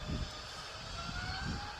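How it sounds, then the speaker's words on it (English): BA shuttle airliner with large Neo jet engines spooling up for takeoff from runway 23 left at Manchester Airport, a steady roar with a low rumble that swells and recedes in the distance. "Those huge Neo engines."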